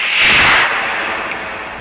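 A Fire Streak SST model rocket launches with a short, loud rushing whoosh of motor exhaust that peaks fast and trails off within about two seconds, close to the pad.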